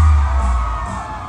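Riders screaming together on a fairground ride at a fair in Xmatkuil, Yucatán, a brief loud burst of crowd shrieks and cheering that fades slightly toward the end.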